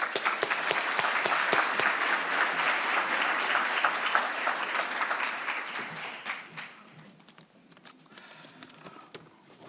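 Audience at an advocacy forum breaking into applause, many hands clapping in a dense, even burst that holds for several seconds, then tapers into scattered claps and fades out.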